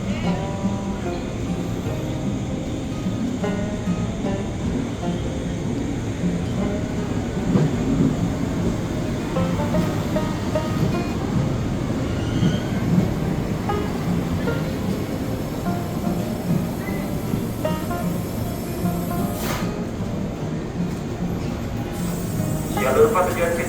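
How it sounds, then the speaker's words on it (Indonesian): A commuter train bound for Bogor rumbles past steadily for a long stretch, a low continuous roar with faint voices in the background. "kereta ke Bogor"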